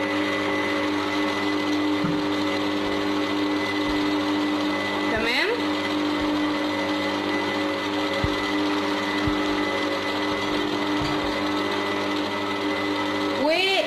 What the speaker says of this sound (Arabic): بعد ما حطينا المية بالجيلاتين هنبدأ ان احنا نشغل ونضرب فيه شوية